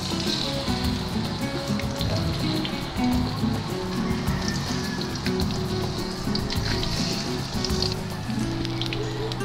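Pork leg (pata) frying in hot oil in a wok, a dense crackling sizzle like rain on a surface that stays loud and close throughout, with faint low background sounds under it.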